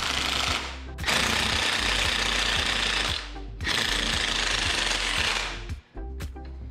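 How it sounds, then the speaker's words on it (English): Impact wrench pulling a part off with a puller during a Jeep Wrangler LS swap: two long loud hammering bursts close up, with short pauses and rattles between them. "Tighten the bolt down and then grab the impact and pull her off."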